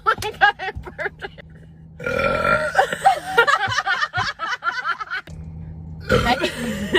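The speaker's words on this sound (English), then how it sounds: "Oh my god, I burped." A girl lets out a series of loud, drawn-out burps up close, broken by short gaps and a few sharp giggling or coughing sounds.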